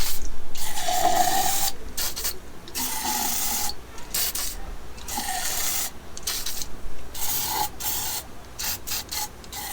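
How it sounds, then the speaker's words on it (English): Repeated bursts of hissing spray as storage oil is sprayed into a Sea-Doo's spark plug holes, each lasting a second or two with short pauses between, close by and fairly loud, with no talking. "take our storage oil and then spray it into each of the spark plug holes"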